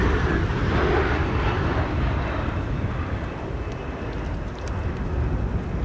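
Airliner landing at Amsterdam Schiphol Airport during Storm Amy, a loud, steady broadband engine and wind roar that holds throughout, dipping slightly midway and swelling again near the end, with no talk.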